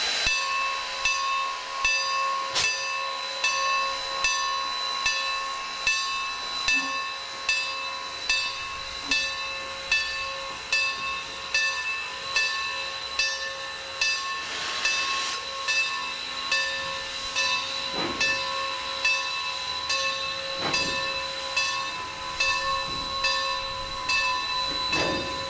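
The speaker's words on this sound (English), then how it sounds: "both locomotives put on a great show with plenty of great steam action." Steam locomotives standing in service hiss with steady, loud steam venting, punctuated by rhythmic chuffs and occasional sharper bursts over about twenty-five seconds, with no talking.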